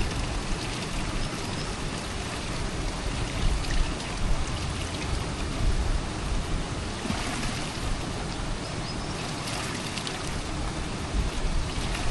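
Leftover mixed liquid pours out in one steady, unbroken rush of splashing, close and fairly loud, with no talking over it.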